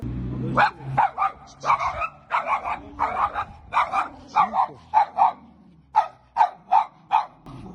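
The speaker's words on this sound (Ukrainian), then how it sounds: "Біля нього вірно чергував пес." A dog stands beside a man sleeping on a city street and barks repeatedly and sharply, close by. About fifteen short barks come in uneven bursts, with faint background noise between them.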